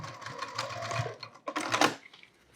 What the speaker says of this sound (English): Sew carefully over the zipper.